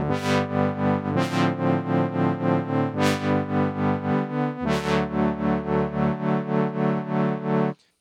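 A sustained synth tone run through an amplitude modulation guitar pedal pulses steadily in rapid, even throbs as its volume is rhythmically modulated, with a few note changes and bright swells, then stops abruptly.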